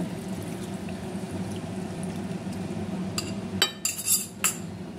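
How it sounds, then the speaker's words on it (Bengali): Cornflour mixed with water poured into a pan of gravy chilli chicken, a steady low simmer underneath then a few quick clinks and splashes near the end, close and alone. "এবার আমি কর্নফ্লাওয়ার যেটা জল মিশিয়ে রেখেছি কর্নফ্লাওয়ারে এটা আমি দিয়ে দিচ্ছি।"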